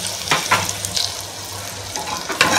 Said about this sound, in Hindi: ये बेसन इसमें डालूंगी